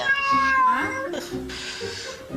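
A cat meows loudly and drawn out, close by, followed by quieter mews and some background noise.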